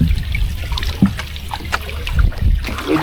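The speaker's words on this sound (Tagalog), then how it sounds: "medyo malalaki na yung alon na parating." Sea waves sloshing and splashing against a small fishing boat during the northeast monsoon, a continuous close watery churn with irregular surges and trickles.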